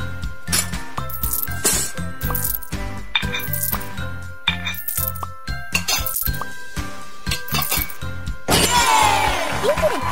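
Dishes clinking as they are put away in a kids' house-cleaning video game, a steady series of bright clinks and clatters over a busy game soundtrack, ending in a burst of sparkly chime.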